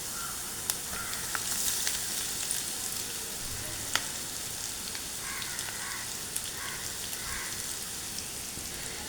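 Squid frying in a pan for a squid chammanthi, with a soft, steady sizzle and scattered crackles and pops throughout, moderately quiet and without talk.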